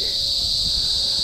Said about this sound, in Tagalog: kuliglig ang tawag sa amin yan